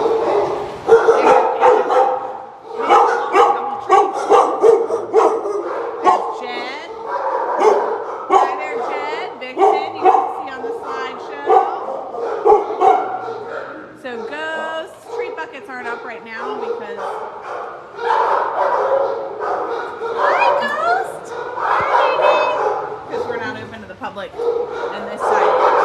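Many dogs in an animal shelter bark continuously and overlapping in an echoing space, a dense, loud chorus of barks and yips that never lets up.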